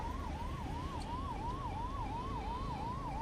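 An ambulance siren wails in steady rising-and-falling cycles while the vehicle is stuck in blocked road traffic during a farmers' protest near Delhi. It is loud and continuous over a low rumble of traffic.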